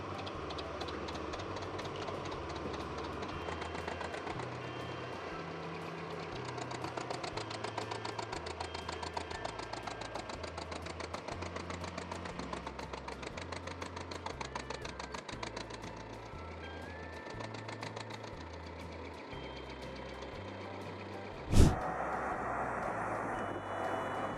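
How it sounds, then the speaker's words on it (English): A Fendt 936 Vario tractor's engine drones steadily and loudly while the tractor struggles through deep mud, with a rhythmic low throb and one sharp bang near the end. "this Fendt 936 Vario is a real monster"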